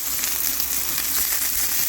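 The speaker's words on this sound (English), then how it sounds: "I have my garlic and oil on the stove. It smells really good. It's sizzling" Steady, dense sizzling of garlic frying in hot oil, a continuous crackling hiss with occasional pops, close up and fairly loud.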